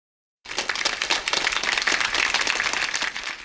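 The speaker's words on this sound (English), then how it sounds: "I would like everyone to join me in a round of applause to thank Paul for all of his work he's done" Applause from the audience at an anniversary symposium keynote starts abruptly after a moment of silence and stays as a loud, dense wash of clapping until it eases slightly at the end.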